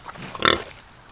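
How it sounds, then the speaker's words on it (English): A pig on a farm lets out a short, close grunt during feeding time, a single brief squeal-like oink rising over quiet background. "I love feeding the pigs."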